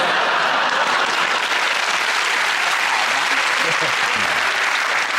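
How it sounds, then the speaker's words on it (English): Sustained applause from a television comedy panel show's studio audience, a dense, even wash of clapping that holds steady and loud throughout, with a few faint voices buried in it. "Applauding the sentiment or the hard-hitting nature."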